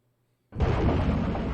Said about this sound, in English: An explosion roared from a rift in the port side.